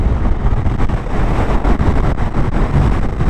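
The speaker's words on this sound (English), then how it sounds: "Oh, it's windy here." Strong wind buffeting the microphone during a motorcycle ride through the Picos mountains in Spain, a loud, steady roar with gusty surges and low rumble across the whole stretch, no voices.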